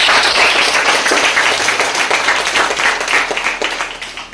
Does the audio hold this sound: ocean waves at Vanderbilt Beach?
no